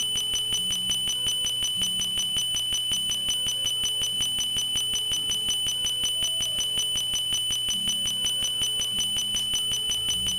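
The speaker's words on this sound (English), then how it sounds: "It sounds like a bloody smoke alarm." Smoke-alarm-like electronic beeping from the video game Deltarune, rapid, evenly spaced shrill beeps repeating steadily throughout over a low synth music background, no voices.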